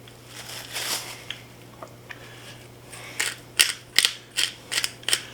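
Pepper mill grinding coarse black pepper over steak, a close series of sharp ratcheting crunches, sparse at first then coming in quick rhythmic twists toward the end.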